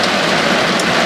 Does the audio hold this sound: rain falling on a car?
yes